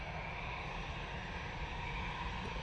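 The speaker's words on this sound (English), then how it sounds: "Virgin, touching down just as we speak, perfect timing." A Virgin airliner touching down at Manchester Airport makes a constant broadband engine roar with low rumble, heard alone without talk.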